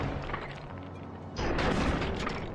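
Cannon tower fire in Sly 2: Band of Thieves, a steady rumbling barrage that swells into a louder burst of blasts partway through, with no talking.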